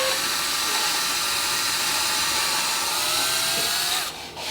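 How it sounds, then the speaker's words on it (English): A power drill bores a pilot hole for a screw in a garage workshop, a steady, loud whine running continuously for about four seconds before cutting off at the end. "I'm gonna drill a pilot hole for my screw."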